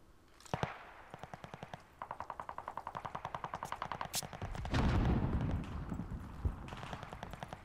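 Rapid automatic gunfire from other arenas in Call of Duty: Vanguard on the Champion Hill mode, heard as two long strings of evenly spaced shots, fairly faint and distant, followed by a closer burst of noise.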